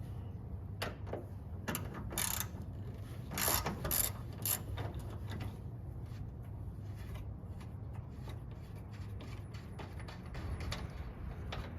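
A ratchet socket wrench clicks in quick bursts while loosening 13mm radiator bolts on a 2013 Chevy Tahoe, sharp close ratcheting spurts separated by quieter gaps with a low steady hum beneath.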